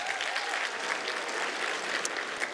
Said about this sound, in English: Let's give it a round of applause for CVS.